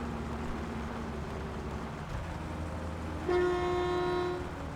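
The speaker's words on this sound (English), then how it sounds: "I think that's a train going past." A train in the game My Summer Car rumbles past at a distance with a low steady drone, then a clear sustained horn blast sounds near the end; no one talks.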